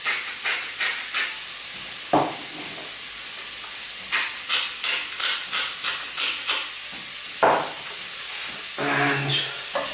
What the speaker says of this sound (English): Just want to put a little bit of colour on the mince.